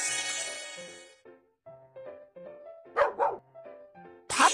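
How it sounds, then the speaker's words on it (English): A puppy barks in a children's mobile game, Baby Panda's School Bus: two short, sharp yips mid-clip and another at the end, over a light game melody. "Puppy."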